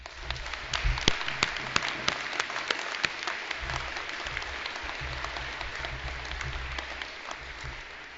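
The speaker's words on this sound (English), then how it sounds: "So please give a round of applause for all of these folks." Outdoor crowd at a bison range celebration applauds steadily, with scattered sharp individual claps standing out over a continuous wash of clapping and low rumbling background.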